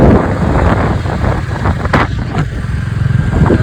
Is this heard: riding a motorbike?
yes